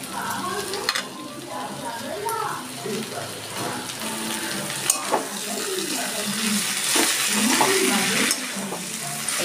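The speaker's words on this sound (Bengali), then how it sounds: "গ্যাসটা কম করে আমি আস্তে আস্তে করে এটা আর একটু ভাজা ভাজা করে নেব।" Loach fish fry in oil in a pan over a lowered gas flame. A continuous moderate sizzle carries occasional scrapes and taps of stirring, with faint voices in the background.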